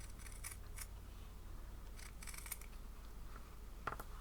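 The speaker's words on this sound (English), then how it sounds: "And I'm going to cut round the shape with a small seam allowance." Small scissors snip around a fabric shape with a seam allowance, giving several faint, close, crisp clicks in short bursts against a quiet room hum.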